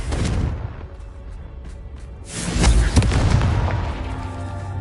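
A Confringo blasting spell cast in the Hogwarts Legacy video game: a loud, deep booming burst erupts midway and rumbles out over steady game ambience, with fainter thuds before it.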